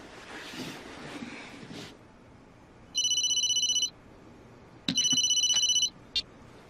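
Telephone rings in two bursts of electronic trilling, followed by a brief third chirp, over faint wind-like background hiss.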